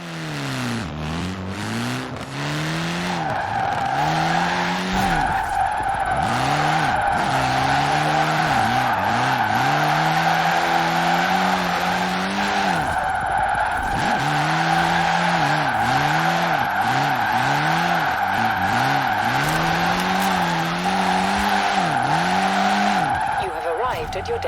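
In Forza Horizon 4, a Fiat X1/9 drift build revs hard through repeated rising and falling engine sweeps, with a long, sustained tire squeal running underneath the drifting, loud and close.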